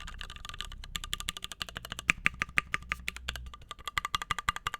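Close, steady typing on a MechVault Legacy45 mechanical keyboard: a quick run of crisp, firm keystrokes with a few louder, deeper clacks mixed in, and no talk.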